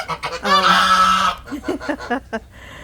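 A loud goose honk rings out close by, then a quick series of shorter, lower honking calls from geese.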